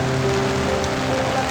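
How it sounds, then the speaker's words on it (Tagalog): Rain pours steadily during a storm at a street market in Carmen Planas, a dense close hiss of drops on surfaces with no break. "umuulan na nga dito mga idol"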